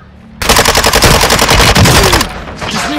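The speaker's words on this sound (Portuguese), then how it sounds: "O cara tava atirando aqui." Automatic gunfire in Call of Duty Warzone 2.0, a loud sustained burst of rapid shots lasting about two seconds, then fading into quieter game effects.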